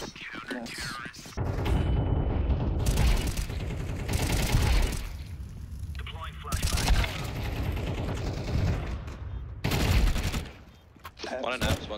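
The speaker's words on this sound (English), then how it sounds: "gunshot." Video game gunfire rattles in long automatic bursts separated by brief pauses, loud and close, with players talking over the shooting.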